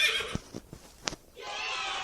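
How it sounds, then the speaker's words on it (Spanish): A horse gives a short, loud whinny close by, ending in a breathy trailing sound, with a few soft thuds before it. "Un caballo."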